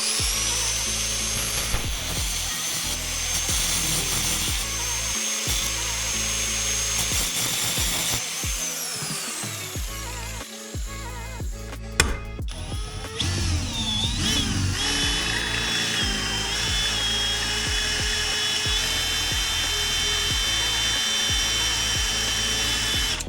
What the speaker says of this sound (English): I'm going to grind this flat, punch it, drill it, and call it a day